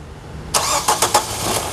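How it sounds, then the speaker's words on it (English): A car engine cranks and catches during a battery test, starting abruptly after a quiet lead-in, then sputtering through a few uneven bursts before settling into a close, loud idle. "So I had to get some help to start the engine."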